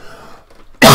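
A single sharp cough bursts out loud near the end, after a stretch of quiet low murmur.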